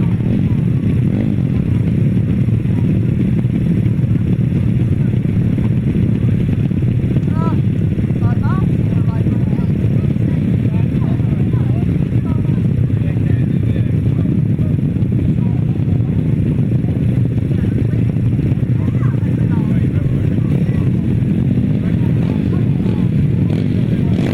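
GT140 grasstrack racing motorcycles rumble at a race meeting, a continuous loud engine drone with revving and clatter filling the background while a commentator talks over it.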